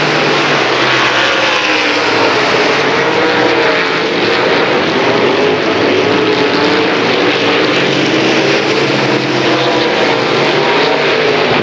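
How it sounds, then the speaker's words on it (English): Late model race cars in a 1993 heat race on a dirt track, their engines producing a loud, continuous roar that holds steady throughout with no breaks. "Johnson continues to lead by a straightaway in the Bullet Chassis Dream Racing Engines 1J, two laps to go"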